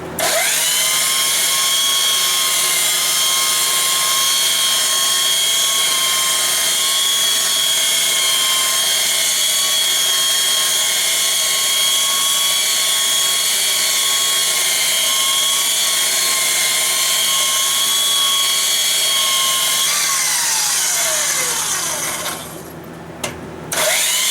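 A power sander runs on a workbench in a small shop, holding a loud, steady whine for about twenty seconds before it winds down and stops near the end.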